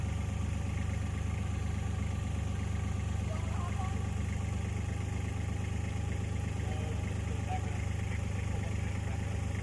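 A machine engine working a farm field, scraping the topsoil off the rich dirt, runs as a steady low drone with a constant mid-range hum throughout. A voice talks intermittently over it.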